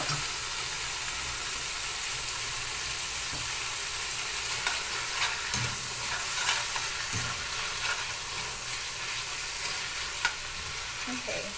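Dried shrimp sizzle and crackle in a hot pan for pad thai, a dense, continuous frying hiss with occasional scraping stirs, close and steady throughout.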